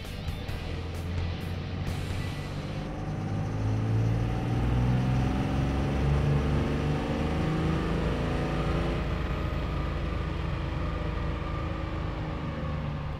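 A 2006 Dodge Cummins diesel pickup with a 362 SXE drop-in turbo and EFI Live tuning, run on a dyno from 1500 to about 3300 RPM: a loud, steady engine roar that climbs in pitch and builds through the middle of the pull, then holds.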